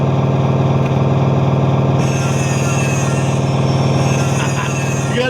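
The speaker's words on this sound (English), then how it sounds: "You got the power tools going" A steady, loud mechanical drone of power tools running in a shop, with a continuous motor hum lasting the whole stretch and no clear pauses.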